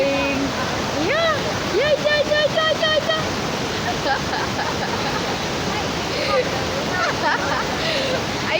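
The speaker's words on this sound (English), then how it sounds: "the water is falling from Mount Kilimanjaro" A waterfall of cold fresh water falling from Mount Kilimanjaro gives a loud, continuous close-up roar. People's voices and cheerful talk break through it now and then.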